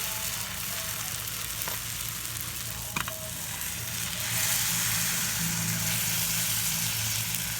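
Paratha frying in ghee on a hot tawa, a steady close sizzle with a low hum underneath and one brief clatter partway through, the sizzle swelling louder toward the end.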